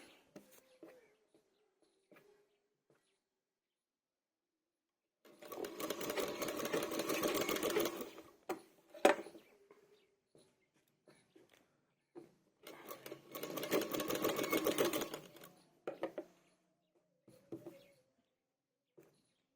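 A sewing machine stitches a suit sleeve in two steady runs of rapid, whirring needle clatter, each lasting about three seconds and separated by quiet pauses with small clicks of fabric handling.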